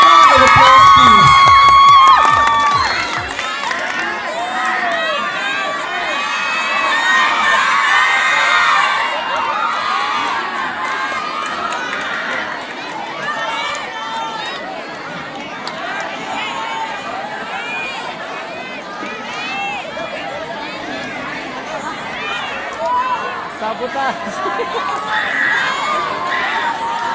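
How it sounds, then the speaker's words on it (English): An audience at a hip hop dance competition claps and cheers for the dancers from an arts and sciences institute, a sustained wash of applause, whoops and shouting that stays steady and fairly loud throughout after an announcer's voice at the start. "A round of applause, please."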